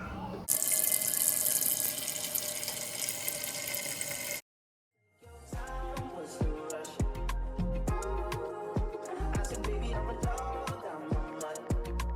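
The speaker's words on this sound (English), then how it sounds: "fill this pot up with 8 cups of water" Tap water pours steadily into a cooking pot for boiling macaroni, then stops; after a brief silence, music plays with a beat.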